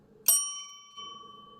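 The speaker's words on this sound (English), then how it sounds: "If you're drinking a beer, ring that bell." A bar-style bell struck once by a beer reviewer, giving a sharp bright ding whose clear ringing tone lingers and slowly fades, with quiet low background hum underneath.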